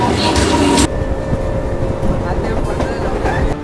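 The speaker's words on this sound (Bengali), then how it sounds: "direct train journey cinematic" A passenger train bound for Howrah rumbles along with a dense, steady low clatter heard from inside, loud and close, with a brief brighter burst at the start.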